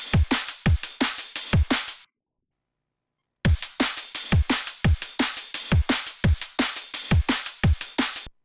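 A looping electronic music phrase with punchy, evenly spaced drum hits and bright full-range tones plays twice through a DAW, broken by a short gap of silence near the middle with no talking.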